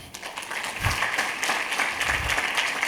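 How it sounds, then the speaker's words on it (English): A church congregation breaks into applause, a soft, somewhat distant wash of clapping that swells slightly and holds steady through the moment. "If you want to clap, clap."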